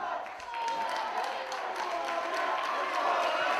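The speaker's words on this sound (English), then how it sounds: "listen to this crowd" A wrestling crowd at a 1PW live event roars and cheers steadily, a dense wash of voices and scattered claps that holds loud throughout and swells slightly toward the end.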